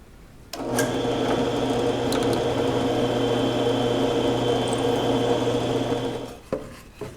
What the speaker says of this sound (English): And then I can drill my hole for my nail.